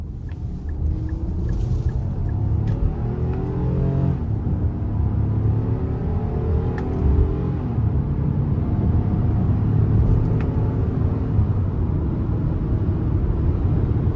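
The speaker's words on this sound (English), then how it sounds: "And I actually like the exhaust note." A 2023 Nissan Pathfinder Platinum's V6 engine and exhaust drone steadily from inside the cabin while driving, a low continuous hum with rising and falling tones as the revs shift through the gears.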